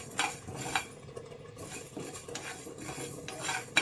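Ingredients for Andhra-style tomato thokku roasting in a pan, with faint crackling under clinking scrapes of a metal spoon against the pan, close-up and fairly quiet, no voices.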